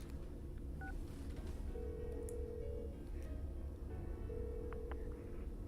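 A phone call being dialed in the video game Persona 4: a couple of short keypad tones followed by two long ringback tones, faint and alone over a low background hum.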